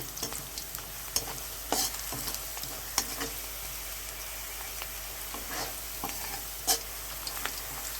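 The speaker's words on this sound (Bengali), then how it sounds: "এখানে দশটা এলাচ দিয়ে দিলাম এলাচটাও ভেজে নিচ্ছি" Whole cardamom pods and cinnamon sticks fry in hot oil, a steady sizzle broken by scattered clicks and scrapes of stirring, close and moderately quiet with no talking.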